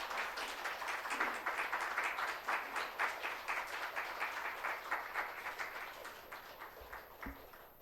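A Korean church congregation applauds to welcome the pastor, a dense, even roll of many hands clapping at a moderate distance that thins out toward the end.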